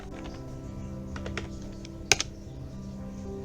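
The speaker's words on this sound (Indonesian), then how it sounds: "Kita coba ketikkan perintah instruksi untuk membuat file directory pada menu root." Keystrokes on a computer keyboard while entering terminal commands to create a directory under root: faint, sparse clicks over a steady low hum, with a sharper double tap near the middle.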